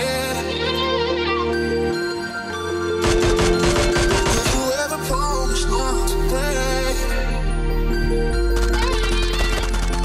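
Gunfire in the mobile battle royale game PUBG Mobile: rapid bursts of automatic shots crackle over a looping electronic music track, loud and close.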